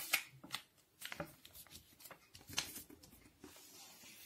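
Colour paper folded by hand for an origami bunny, a series of close, quiet crinkles and crisp creasing rustles in short irregular bursts, with no voices.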